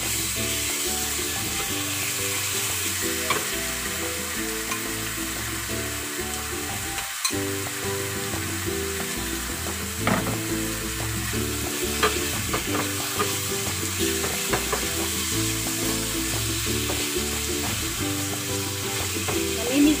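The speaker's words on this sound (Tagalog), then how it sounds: "nag-marinate na ako nito para igigisa ko sa gulay" Marinated pork sizzles and fries steadily with vegetables while a utensil stirs and scrapes the pan, the frying loud and close throughout with no talking.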